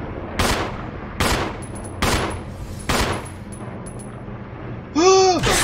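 Gunshots ring out in Resident Evil, four separate sharp cracks spaced roughly a second apart with echoing tails, followed by a short tonal warbling effect.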